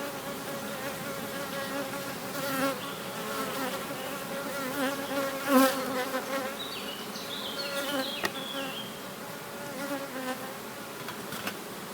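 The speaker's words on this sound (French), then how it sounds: "C'est noir d'abeille." A dense, continuous buzzing of many honeybees around a hive fills the air, steady and close, with individual insects droning past now and then.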